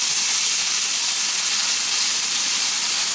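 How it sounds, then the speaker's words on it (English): A Cuban frita burger sizzles in a pan just after being flipped, a steady, bright hiss of frying fat filling the short moment with no talk. "Okay, once we flip this burger over,"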